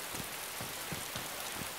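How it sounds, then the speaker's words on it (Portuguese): Steady rain pours down in the survival game DayZ, a dense continuous hiss with faint droplet taps spaced through it, no voices over it. "É que tá chovendo pra caramba no jogo e aqui na minha cidade também."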